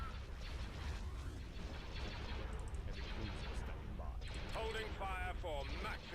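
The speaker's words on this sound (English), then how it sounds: "There's some impressive firepower these things can put out." Starship weapons fire in the space strategy game Star Wars: Thrawn's Revenge, with Dreadnoughts engaging, as a steady dense wash of cannon blasts and mechanical rumble plays throughout, with sweeping laser-like tones near the end and a voice talking over it.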